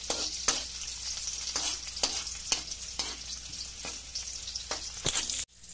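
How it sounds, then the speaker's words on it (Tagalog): Garlic, onion and ginger sizzle in hot oil while being stirred until golden brown, a steady crackling fry broken by sharp clacks of the spatula against the pan at irregular intervals. "Bawang, sibuyas, at luya. Yan, at halo-haloin lang po natin hanggang maging golden brown."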